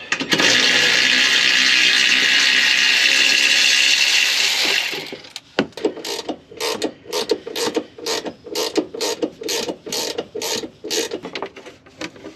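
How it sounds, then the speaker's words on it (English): A ratchet works to remove a bolt on a 2022 Toyota Tundra skid plate, starting with a loud continuous whir for several seconds, then giving way to a rapid series of sharp, evenly spaced ratcheting clicks up close. "What we got to do first is we got to take out this bolt"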